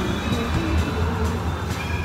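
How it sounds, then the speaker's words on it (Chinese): A steady low rumble and rattle of an Amsterdam tram in motion, close and continuous, with faint rhythmic clicks from the wheels. "现在坐那个电车出来"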